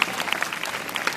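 A brief burst of audience clapping at a college Christmas celebration, a dense, even patter of many hands close by.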